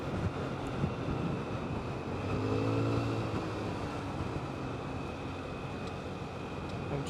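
Old, cheap second-hand scooter riding along outdoors, its small engine and exhaust droning steadily beneath heavy wind rush across the microphone, with a brief rising engine tone in the middle.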